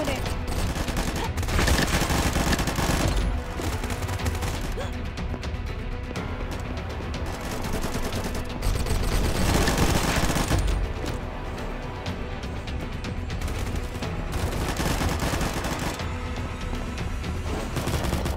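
Dense gunfire from the Combat Master shooter game crackles almost without pause, bursts of rapid automatic shots stacking into loud, near fusillades that swell and ease throughout.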